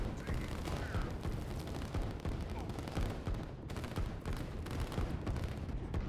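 Continuous crackle of massed gunfire and artillery thuds from soldiers and artillery units in the strategy game Line War, a dense rumbling battle din that stays steady throughout.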